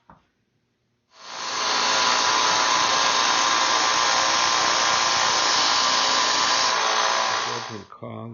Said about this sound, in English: put it in my drill, put it on reverse, and go over to my belt sander, and I sand that down